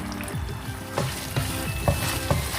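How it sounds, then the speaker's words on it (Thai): Sausage frying in a pan with oyster sauce, a steady close sizzle broken by a few scraping stirs every half second or so, with no talking. "เดี๋ยวรอให้ไส้กรอกสุกแป๊บนึงค่ะ"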